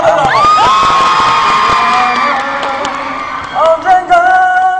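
A concert crowd cheers and whoops loudly, with high shouting voices rising and falling in overlapping waves and scattered clapping underneath, filling the space continuously.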